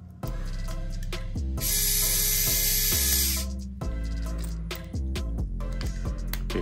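Screws being tightened into the differential of a Tamiya TA0 remote-control car: a clicking, ratcheting mechanical sound, loud and close, in uneven bursts over a few seconds.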